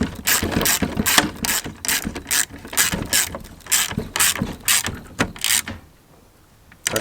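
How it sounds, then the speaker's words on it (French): A ratchet wrench clicks in quick repeated bursts at close range, the rhythmic ratcheting stopping abruptly near the end. "Toujours une pince et une clé à cliquer,"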